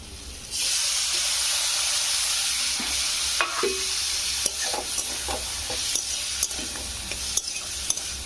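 Lentils and gourd leaves are stirred in a hot pan, a steady loud sizzle running throughout with repeated scraping strokes of the spoon against the pan, no voices.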